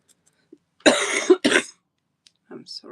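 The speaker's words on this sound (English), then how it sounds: "Sorry for coughing." A person coughs in a short burst followed by a second, briefer cough, close and fairly loud, then a faint throat-clearing sound after a pause.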